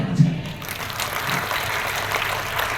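A church congregation claps together during a sermon, a brief dense burst of applause that stays fairly even in level for under three seconds, with some room murmur underneath.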